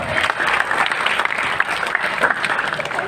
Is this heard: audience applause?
yes